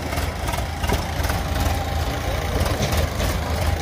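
A Swraj 855 tractor engine idles close by at a steady, loud, low throbbing chug, with a faint murmur of voices in the background.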